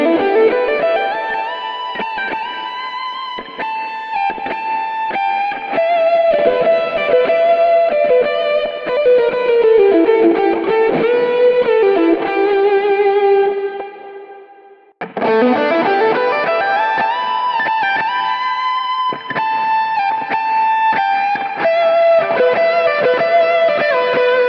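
Electric guitar through a Neural Amp Modeler profile of a lead tone plays a smooth, sustaining distorted lead line with bends, pausing briefly midway before resuming, loud and alone.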